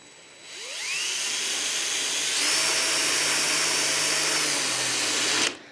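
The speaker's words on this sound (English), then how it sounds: "Now I'm going to be drilling through this new piece and the plate, so it might take a little bit." A power drill spins up and bores through a steel plate beneath a piece of cast iron, a rising whine settling into a steady high grinding drone for several seconds before stopping abruptly.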